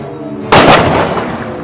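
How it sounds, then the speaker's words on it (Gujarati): A Diwali firecracker bomb bursts with one loud, sharp bang, a single close blast whose crackling echo quickly fades over steady background noise. "જો આ હે તોતા બોમ્બ, આમાં મજા આવે ને તો જ."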